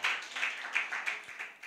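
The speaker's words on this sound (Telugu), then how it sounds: "అందరు గట్టిగా చప్పట్లు కొడదామండి" A church congregation at a thanksgiving service claps in a loose, irregular patter of hand claps over a couple of seconds, moderately near and not very loud.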